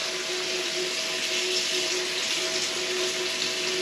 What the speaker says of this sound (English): I'm filling up my water bottles.